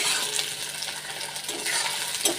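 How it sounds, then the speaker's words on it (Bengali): Chopped onions frying in a hot karai, giving a close, steady sizzle with brief stirring scrapes and no speech. "কড়া গরম হয়ে গেছে, কড়াতে পেঁয়াজটা দিয়ে দেবো"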